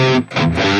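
Distorted electric guitar sounds through a Valeton GP-200 modeler's impulse response with no high cut. A loud, buzzy, sustained chord briefly dips, then returns, with no talk.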